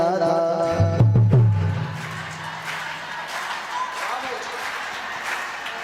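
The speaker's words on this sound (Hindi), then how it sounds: "तो मेरे साथ ताली बजाते हुए कहना है क्या?" An audience at a Shrimad Bhagavat Katha devotional gathering claps along in rhythm while chanting; a sung voice leads at first, then steady massed clapping continues under the voices.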